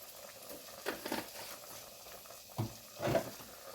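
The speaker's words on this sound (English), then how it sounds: "We're going to saute these onions" Onions saute in a pan with a faint, steady sizzle, while a few soft stirring scrapes and clinks stand out near the end.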